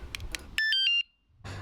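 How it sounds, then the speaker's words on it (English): A basic battery-powered alarm fitted to a cheap Chinese scooter gives a short run of loud, shrill electronic tones, a few rapid chirps that stop abruptly, with faint handling noise before and after and no talking. "this is a very basic alarm"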